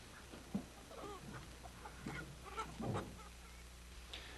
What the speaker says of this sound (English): The chickens have to be loaded the hard way.